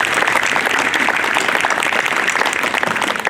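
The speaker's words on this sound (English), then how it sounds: "Could we have one more round of applause for all of our veterans who are currently serving or who" Dense, steady applause from a school assembly crowd at a Veterans Day ceremony, loud and close, rolling on without a break for a few seconds.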